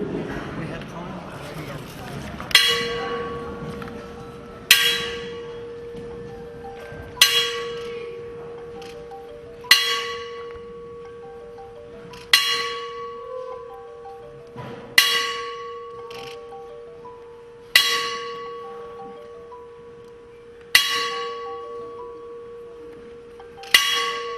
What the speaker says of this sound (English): We're going to toll the bell 10 times.